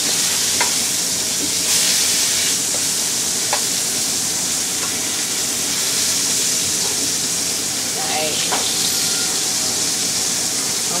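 Food searing in a hot pan, a dense steady sizzle with crackling pops and occasional stirring scrapes, close and continuous.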